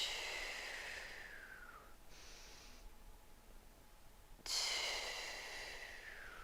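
Two deep, slow breaths during an athletic recovery stretching flow, each a long, close, audible exhale fading out, with a quiet inhale between them.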